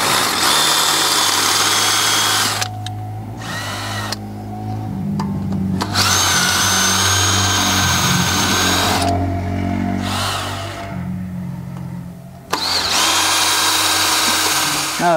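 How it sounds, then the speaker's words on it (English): A power drill whines loudly and close up in several long runs, grinding as it bites into a metal bolt on a Honda Odyssey brake hub, with brief pauses between bursts. "you run the drill bit here, and then you drill for a little bit"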